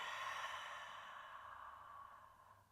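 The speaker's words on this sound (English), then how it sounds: "Long, slow breath out through the mouth if you need it." One long, slow breath exhaled through the mouth during a calm yoga practice, a soft airy whoosh fading gradually over a few seconds.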